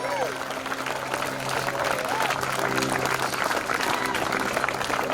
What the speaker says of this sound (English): Can we give a round of applause to the people who are all the way in the back